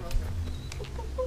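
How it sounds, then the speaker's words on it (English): Chickens cluck briefly outdoors, a few short soft calls heard faintly against background noise. "look at the chickens"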